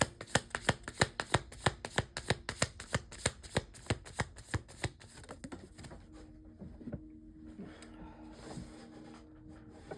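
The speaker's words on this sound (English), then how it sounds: "The cards keep falling on the floor." Tarot cards slapping and pattering in a quick, regular run of sharp close taps, then falling quiet to scattered faint rustles.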